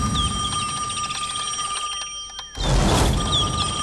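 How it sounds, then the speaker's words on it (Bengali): Cartoon telephone ringing, a bright electronic trill repeating steadily with clear tonal pulses throughout, close and prominent, briefly interrupted near the end by a burst of broadband noise. "এখন আবার কে ফোন করলো?"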